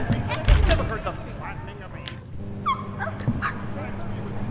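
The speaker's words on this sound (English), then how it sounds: "It's basically a dog." A dog-like creature in the horror game My Friendly Neighborhood yelps and whimpers in short bursts, a few brief cries rising over a dim ambient background with some talk mixed in.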